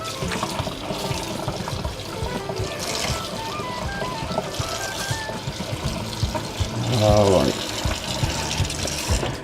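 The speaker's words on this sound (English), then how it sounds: "Each individual piece, just make sure you flip it under the water." Water running steadily from a tap while pieces are moved and turned beneath it, with a brief voice speaking near the end.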